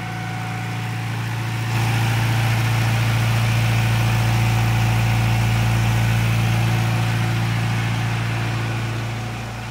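A stationary engine running steadily at about 1900–1950 rpm drives a deep-well irrigation pump. It holds a loud, continuous drone that swells after a couple of seconds and stays even throughout, with no talk.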